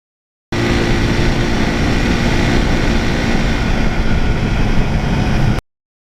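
A 1977 Yamaha RD400 motorcycle engine runs at a steady, loud, buzzing drone with a constant pitch for about five seconds, close up, and then cuts off abruptly, with no speech.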